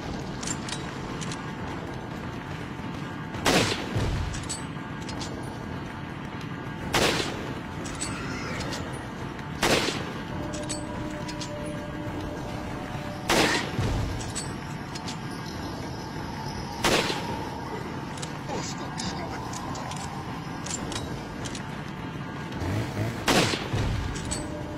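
Gunfire in Resident Evil 4, with sharp shots at a few-second intervals, some doubled, punching through a steady low game ambience of wind and distant tones.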